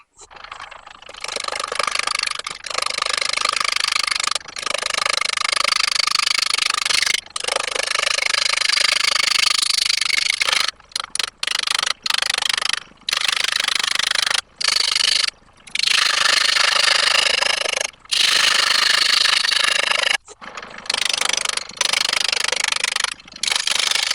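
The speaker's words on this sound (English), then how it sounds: "So the first thing I need to do is turn this nice and flat and put a chucking point on there." Wood lathe turning the bottom of a walnut platter flat, a loud continuous rasping scrape of the gouge on spinning wood, broken by frequent brief pauses as the tool lifts off, with no talking.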